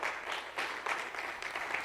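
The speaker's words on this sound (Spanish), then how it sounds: "Den un aplauso al Señor." A church congregation claps together in applause during a Spanish-language worship service, steady dense clapping with a few stronger bursts, filling the whole short stretch.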